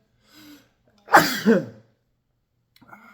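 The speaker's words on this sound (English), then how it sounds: "I got to sneeze again." A single sneeze-like burst with a sharp intake and explosive release, close and fairly loud, with a faint voice before and after.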